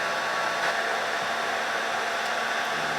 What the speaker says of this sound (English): we're hitting it with the heat gun